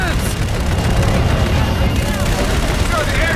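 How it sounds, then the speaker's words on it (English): In Call of Duty: Infinite Warfare on PC, a dense, loud battle roars as machine gun fire and booming blasts crowd the mix continuously, with voices shouting over the combat. "Guns, guns, guns!"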